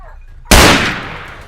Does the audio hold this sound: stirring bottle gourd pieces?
no